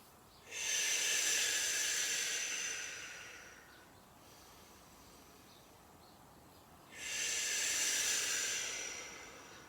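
Slow, steady breaths during a glute and core Pilates workout: two long, airy exhalations a few seconds apart, close and hissing, with a softer breath between them and no talking.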